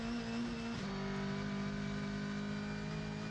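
Sasol BMW race cars compete in a GTC championship round at East London, with a loud, steady high-revving engine drone and sustained tonal whine throughout, a brief shift near the start.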